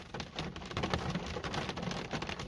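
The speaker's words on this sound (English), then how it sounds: "It still rains a tiny bit." Light rain patters faintly and steadily on leaves in a woodland, a soft, dense crackle of scattered drops with no voices.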